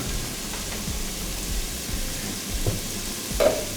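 Sausages sizzle in a hot pan with a steady broadband crackle, and a few soft knocks and scrapes come as they settle in, with no one talking.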